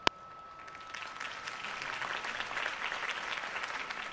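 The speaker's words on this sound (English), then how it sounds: "If only Mr. Wayne, my campaign's largest backer, could have heard that applause" Crowd applause in the Batman Telltale video game, a steady wash of many hands clapping after a campaign speech, beginning with a sharp click and holding at an even level throughout.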